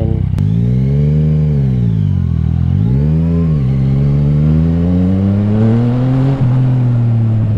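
A Kawasaki Z900 or Yamaha MT-09 motorcycle engine under way, loud and close, its pitch rising and falling through gear changes and throttle pulls before building steadily into a sustained rev.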